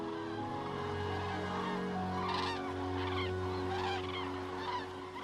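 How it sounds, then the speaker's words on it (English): Geese and cranes calling at Neusiedlersee, a flock of honking calls repeating over a steady low background hum, moderately loud and fairly close, with overlapping calls throughout. "the haunting calls of the cranes echo through the landscape as they settle among the ducks and geese"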